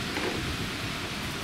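Thunder rumbles with rain as a big storm approaches outdoors near a small park, a steady dense roar that fills the whole short moment without pause.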